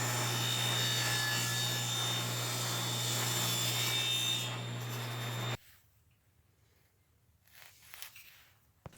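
A table saw running a plywood sled through a straight cut gives a loud, steady whine and roar for about five seconds. Then it stops suddenly and faint shop noises follow.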